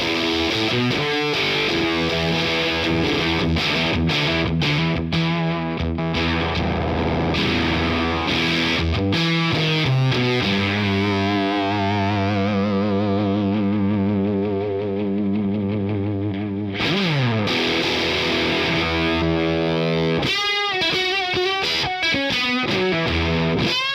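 A heavily distorted electric guitar plays sustained fuzz chords and notes, with an octave-up tone layered in, loud and close with no talking.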